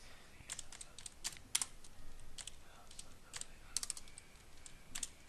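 Fingers typing HTML on a computer keyboard, a steady stream of light, close key clicks with a few sharper presses standing out, no voices.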